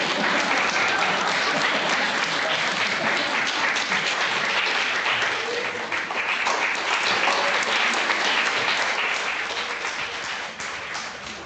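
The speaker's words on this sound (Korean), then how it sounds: "박수 해주세요." A church congregation at a Sunday service breaks into loud, sustained applause, a dense patter of many clapping hands that holds for several seconds before slowly tapering off.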